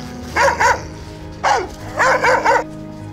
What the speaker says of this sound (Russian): гавкаешь? Собаки прервали.